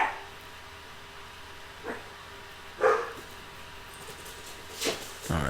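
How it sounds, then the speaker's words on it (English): Pet dogs give a few short, separate barks at a distance over steady low room noise, spaced a second or two apart, with one slightly louder yelp in the middle. "my dogs are barking"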